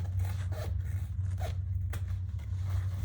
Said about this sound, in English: now I am gonna trim these seams just a little